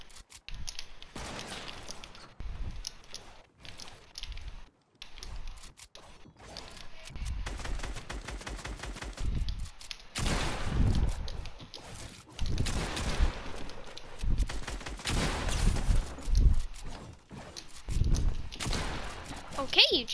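Gunfire in a one-on-one video game match comes in scattered bursts of shots across twenty seconds, mixed with game noises and footsteps. A voice talks over parts of it.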